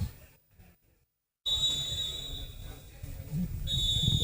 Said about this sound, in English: Friendly Napoleon blowing the halftime whistle